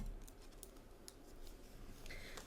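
Scissors snip through a single paper page for a handmade journal, with faint crisp cuts over steady low room noise, close and quiet.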